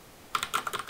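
Brief burst of computer keyboard typing, several quick close keystrokes in an irregular rhythm following a short silence, no voices.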